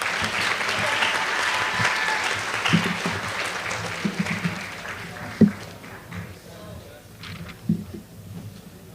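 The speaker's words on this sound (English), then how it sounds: "And with that, please, another round of applause for our middle school track team." An audience applauds a middle school track team at a spring sports awards ceremony: steady, fairly loud clapping from a room full of people, with a few sharper claps standing out before it gradually thins toward the end.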